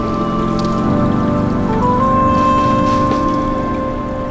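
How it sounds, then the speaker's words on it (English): Rain sprinkles patter on a car windshield during a drive through the Florida Keys, a dense steady spatter over a loud continuous engine and road hum with a faint tonal whine. "some sprinkles start hitting the windshield"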